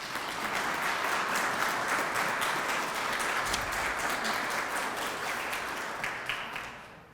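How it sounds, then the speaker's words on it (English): Steady applause from an audience at a teacher of the year awards celebration, honoring the ten finalists, a dense even wash of clapping that holds for several seconds before tapering slightly at the end. "Let's give all of our 10 finalists a round of applause."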